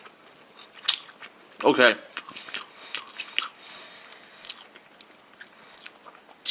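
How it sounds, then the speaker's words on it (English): A Burger King breakfast sausage, served no longer warm, takes one sharp, close bite with a short crunch and squish, followed by quieter chewing sounds. Someone speaks briefly. "Let's take a bite here of this sausage."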